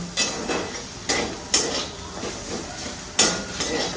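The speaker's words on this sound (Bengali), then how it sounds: "হয়ে গেছে করলা ভাজা" Bitter gourd slices with poppy seeds frying in a pan, with a steady soft sizzle broken by several sharp scraping bursts as the pan is stirred, close and fairly loud, with no talk.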